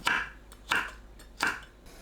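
Three evenly spaced knife strokes on a cutting board as green Cheongyang and red chili peppers are cut into short lengths, crisp, close and fairly quiet, with no talking.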